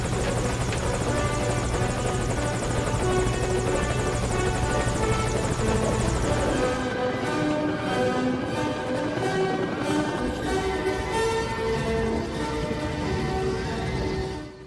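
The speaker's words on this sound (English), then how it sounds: "in Metal Gear Solid 5 Ground Zeroes, a helicopter arrives playing Ride of the Valkyries" Helicopter arriving in the video game Metal Gear Solid 5 Ground Zeroes, its rotor thrum steady and loud throughout, mixed with orchestral music that thins out partway through.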